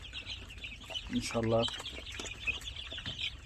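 Tiger breed chicks and hens clucking and cheeping on a poultry farm with about 500 chicks, a brief louder cluck in the middle, with someone speaking over it.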